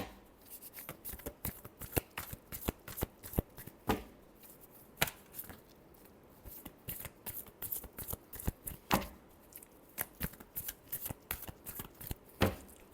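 Tarot cards being shuffled by hand, a rapid run of crisp riffling slaps and flicks in irregular bursts, close and fairly loud, with no talking.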